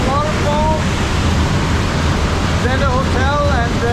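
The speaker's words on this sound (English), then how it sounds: "So here you have the waterfall" Giessbach Falls in Brienz, Switzerland, pours with a steady, broadband roar of rushing water throughout, near and constant, with birds chirping faintly on top.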